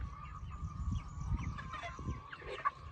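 Meat chickens drinking from a swinging waterer tray on a farm in the morning, with soft clucks, low fluttering shuffles and scattered pecking at close range, ending in a sharper squawk.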